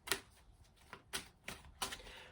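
Tarot cards are shuffled up close in a run of five quiet papery bursts at a loose, uneven rhythm, with no talking.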